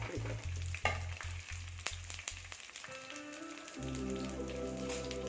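Garlic, ginger and tomato hit hot oil in a pan, giving a close, crackling sizzle with stirring clatter at the start, then a steadier frying hiss over a low hum.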